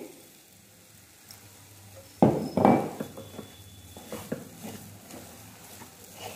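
Sugar stirred into semolina sheera cooking in ghee, with a sudden loud sizzle and spoon scraping after a quiet start, then lighter clinks and stirring strokes in the pan.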